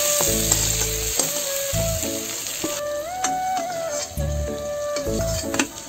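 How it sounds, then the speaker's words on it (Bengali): Pointed gourd (potol) fries lightly in oil in a home Bengali kitchen, giving a steady close sizzle with occasional stirring throughout, set against a tonal music background. "এই যে পটল কটা ভাজা হয়ে গেছে, হালকা ভাজা করছি"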